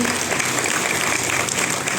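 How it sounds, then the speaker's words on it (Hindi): An audience at a speech in Nagpur breaks into steady, dense clapping that stays loud and even for about two seconds, with no one speaking over it. "मेरे सभी गुरुजन जैसे प्रदीप धोटे सर, इनके लिए भी एक जोरदार ताली होनी चाहिए"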